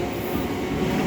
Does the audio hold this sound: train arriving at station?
yes